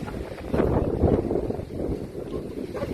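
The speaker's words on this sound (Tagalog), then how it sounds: "Oo nga, ang lakas ng hangin." Steady strong wind buffeting the microphone on an open mountain campsite at Balagbag near Tagaytay City, a constant low rumble with gusty swells and no voices.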